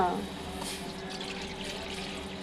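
Tap water running steadily into a pot for cooking Maggi noodles, a continuous close splashing pour heard alone after a brief louder start.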